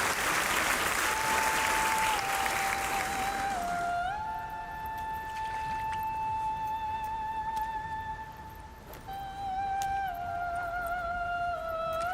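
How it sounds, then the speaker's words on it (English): Loud applause from a crowd at Summer Game Fest 2024 for a few seconds, then a steady electronic tone and faint whistle-like sounds continue over a thinner background wash. "round of applause for them"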